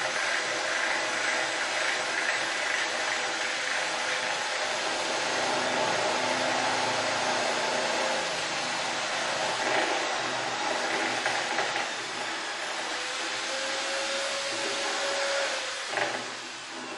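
A router fitted with a carbide coring bit cuts a hinge mortise using a hinge template, a loud continuous high-pitched whine and grinding roar that holds steady for the whole span before dipping near the end.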